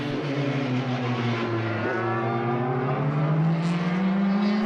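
Formula BOSS race cars at Mondello circuit on their final lap, high engine notes rising steadily as the cars accelerate, loud and continuous with overlapping tones from several cars.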